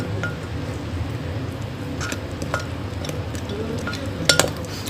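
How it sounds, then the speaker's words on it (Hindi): A spoon stirs a flour mixture in a bowl, a continuous soft scraping swish with a few faint light taps scattered through and a small cluster of clicks toward the end. "पहले चम्मच से इनको अच्छी तरह आप ऐसे हिला लें थोड़ा सा"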